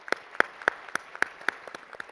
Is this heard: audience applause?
yes